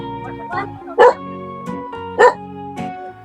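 A dog barks repeatedly at a house, two loud sharp barks between softer yips and whines, with a constant hum running underneath.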